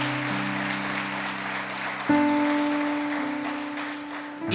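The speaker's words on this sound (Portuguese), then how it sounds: "Você pode aplaudir o Senhor por isso?" A church congregation claps together, a dense steady wash of applause with organ or keyboard chords held underneath that shift partway through.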